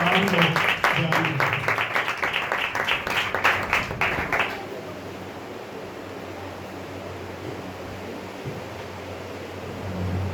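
A church congregation at a Sunday morning meeting bursts into loud, dense applause for about four and a half seconds, then it cuts off, leaving a quiet room hiss.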